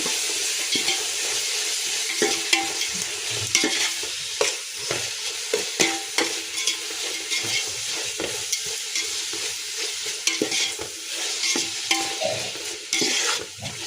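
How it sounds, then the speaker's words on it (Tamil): Ginger garlic paste mixture being stirred in a frying pan, with repeated scraping and clattering strokes over a steady sizzle, close and loud, no voices. "மிக்ஸ் பண்ணிடலாம் சேர்த்து."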